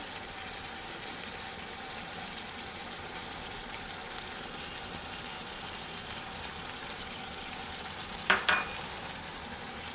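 Chicken curry being stirred in a pan makes a continuous soft sizzle and frying hiss at moderate level, with a couple of brief utensil clinks near the end and no voices.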